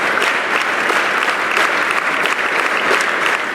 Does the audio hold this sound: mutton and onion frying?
no